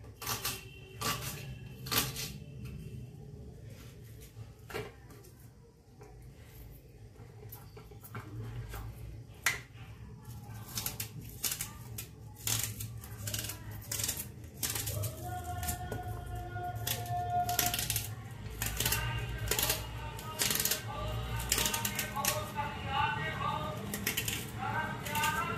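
A knife chops onion on a board in a home kitchen, with sharp, irregular taps that come in bursts and grow busier toward the end, heard close under someone talking.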